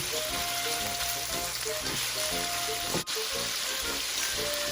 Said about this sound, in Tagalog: So you have to stir fry until it turns brown.